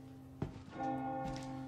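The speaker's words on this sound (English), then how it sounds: "I heard a bell." A bell rings out in the Resident Evil 4 Remake video game, a single struck tone that settles into a sustained, resonant hum lasting over a second, moderately loud with no voices.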